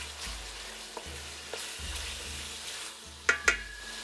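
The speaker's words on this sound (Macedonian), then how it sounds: "Еве го месцето веднаш. Тоа е свежо, не замрзнато, меко. Еве веднаш се прши." Fresh, unfrozen meat sizzling in a hot pan for a traditional white soup, a quiet steady fry with soft stirring scrapes and two sharp metallic clinks near the end.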